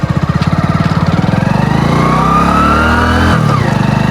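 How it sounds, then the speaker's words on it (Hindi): A motorcycle starts with a rapid, loud, thumping engine beat, then revs up into a rising drone as it pulls away, close to the listener. "बाइक को स्टार्ट कर लेते हैं और चलते हैं।"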